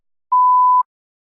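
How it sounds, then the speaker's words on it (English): A single clean electronic tone, steady and moderately loud, lasting about half a second and marking the start of preparation time in a speaking practice test, with silence on either side. "You may begin to prepare your response after the beep."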